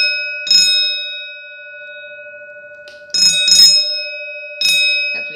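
A Gent fire alarm bell on a homemade telephone hotline rings in three sharp metallic bursts, close and loud, with steady electrical tones sustaining between the rings.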